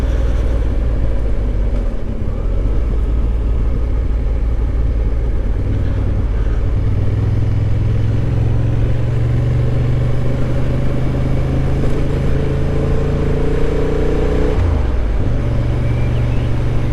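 A Honda Hornet CB750 motorcycle engine runs with a steady, close, low droning hum. The pitch rises gently partway through, then drops briefly near the end.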